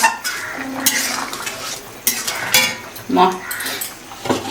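Eggs stirred into a spicy soybean curry in a pan, with a utensil scraping and clinking against the metal at irregular intervals over a soft sizzle, close and clear.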